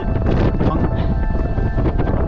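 Strong gusting wind buffets the microphone on an exposed mountain ridge in the Vercors, a loud, continuous roar with no clear voices.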